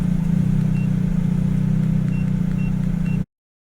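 A Toyota Vios Dual VVT-i engine, logging code P1605, idles roughly. It gives a steady, loud, close low hum with a slight uneven pulsing and faint intermittent high ticks, and it runs alone, with no talk, before cutting off abruptly.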